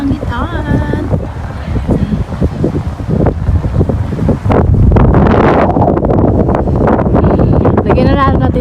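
Gusty wind buffets the microphone in loud, uneven bursts that swell stronger midway, with faint voices underneath.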